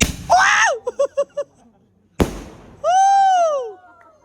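Firecrackers set off at a family birthday celebration in Australia: one sharp, loud bang midway, surrounded by shrill whistling and sweeping tones and excited high-pitched voices.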